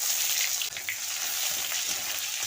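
Chopped onion sizzles in oil in a wok, a steady close hiss with faint stirring clatter underneath, no voices.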